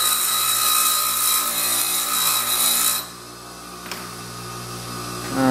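A grinding wheel being dressed, with a harsh continuous abrasive rasp over a motor hum for about three seconds, then the scraping stops, leaving the quieter steady whir of the spinning wheel before the rasp briefly resumes.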